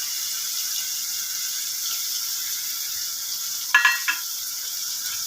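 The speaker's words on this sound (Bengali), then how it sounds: "এবার ওই পেঁয়াজ, লঙ্কা, আদা, রসুন, কাঁচা লঙ্কা বাটাটা এর মধ্যে ঢেলে দিলাম।" A paste of onion, green chilli, ginger and garlic sizzles in a pan with fish, a bright steady hiss close by, with a couple of brief scraping clanks near the end.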